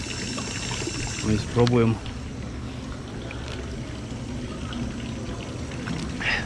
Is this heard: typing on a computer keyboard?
no